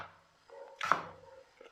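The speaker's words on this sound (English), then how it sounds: "I'm slicing my tomatoes like this" A kitchen knife cuts through a tomato with a single soft, close slicing stroke amid quiet room tone and a few faint handling clicks.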